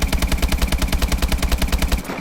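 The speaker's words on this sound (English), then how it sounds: "So this is the normal AK-12's rate of fire." An AK-12 rifle fires a sustained automatic burst in Call of Duty: Advanced Warfare, about two dozen sharp, evenly spaced shots at a fast steady rate, loud and close, with a brief tail after the last round.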